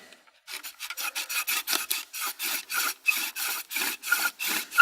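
A large wooden spindle in a bow drill grinds against a wooden fireboard in fast, steady back-and-forth strokes, a raspy rhythmic rubbing heard close up and alone after a brief silence.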